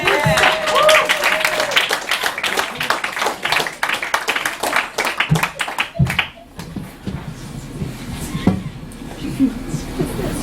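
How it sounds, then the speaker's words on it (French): Audience clapping at a slam poetry night in a Montreal bar, dense applause filling the first half and thinning out, with voices and scattered claps continuing afterward. "Une bonne main d'applaudissements."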